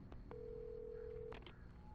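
A few quick electronic phone beeps in the video game Alan Wake Remastered, then a sustained dial tone and more button tones, faint against a low background hum.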